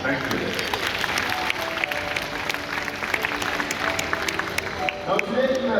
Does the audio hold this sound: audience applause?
yes